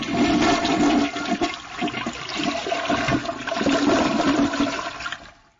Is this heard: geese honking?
no